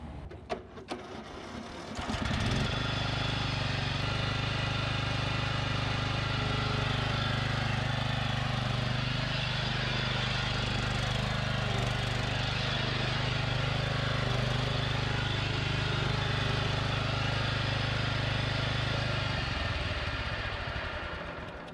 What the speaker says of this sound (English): we're gonna drive it around here in a little circle around the lawn